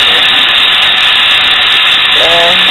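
Steam hisses loudly and steadily from the turned release knob of a pressure cooker holding vegetable beef stew, a constant close-up rush that runs the whole time, with a faint brief tone near the end.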